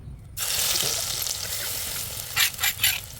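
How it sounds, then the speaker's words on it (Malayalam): Mustard seeds crackle in hot coconut oil in a pan for a puttu and chickpea fry, a dense close sizzle that starts abruptly, holds steady, then swells in three quick louder bursts near the end. "എണ്ണ ഒഴിച്ച് കടുക് പൊട്ടിയിട്ടുണ്ട്"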